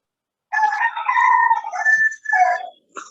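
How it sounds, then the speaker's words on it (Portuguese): A rooster crows loudly and close by, one long cock-a-doodle-doo with a wavering middle and a drawn-out ending, followed by a short extra call, with silence before it. "se o Galo está a cantar"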